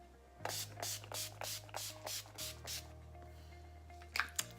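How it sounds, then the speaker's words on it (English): Several short hissing bursts of a makeup setting spray misting onto a face close by, in a quick irregular series, followed by a brief pause and two final sprays. "I am just going to spray my face with a little bit of Urban Decay All Nighter spray"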